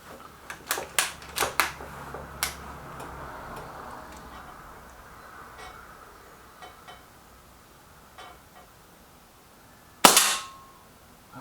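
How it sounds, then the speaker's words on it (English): A Walther Rotex RM8 air rifle fires a single sharp, loud crack near the end, which decays quickly. It follows a quiet stretch of scattered light mechanical clicks and handling noises. "Okay, it's the 4th shot for the Rotex."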